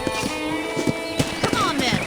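Horse hooves clip-clop in a Red Dead Redemption game scene, a few soft, irregular thuds under a man's speech and background music.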